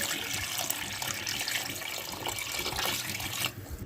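Water poured steadily into a pot of beef paya broth, a continuous close splashing and gurgling stream that stops abruptly near the end.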